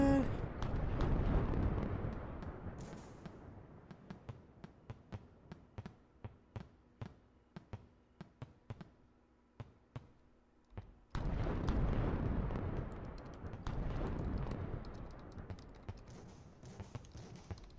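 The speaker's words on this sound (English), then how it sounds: "That is a lot of fireworks." Fireworks explode in the Fireworks Mania video game as a rapid series of sharp, loud bangs and crackles over a rumbling roar, thinning to spaced single pops in the middle before a dense barrage resumes.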